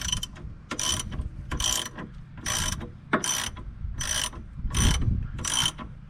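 A ratchet wrench loosens bolts on the brake caliper of a 2009 C6 Corvette, giving about eight bursts of rapid clicking, each under a second, with brief gaps between strokes and close to the listener.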